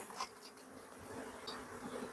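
Honey bees buzz steadily while a hive is being split, a close, continuous droning hum with a few brief louder passes as bees move near.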